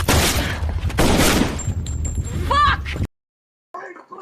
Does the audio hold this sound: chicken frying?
no